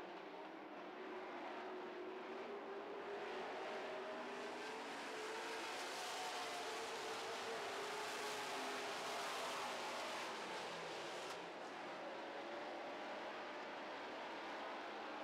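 Super stock race cars roar around an oval track in a feature race, a dense continuous engine drone with shifting pitch as the field passes, heard at a steady distance.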